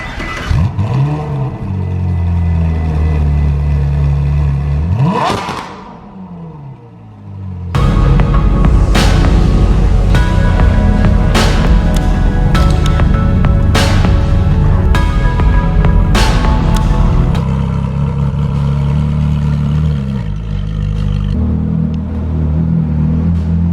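A Ferrari sports car engine revs hard in repeated sharp exhaust bursts, loud and close, with a brief lull before the roaring resumes and holds steady.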